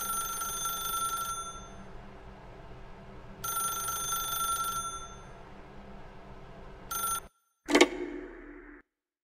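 A telephone in The Stanley Parable rings in two long electronic bursts and a short third one, close and clear, then cuts off sharply into a brief jangle.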